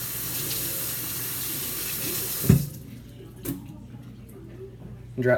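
A faucet pours hot water over a kitchen knife being washed in a sink, a strong steady rush that cuts off partway, followed by a few light clinks and knocks.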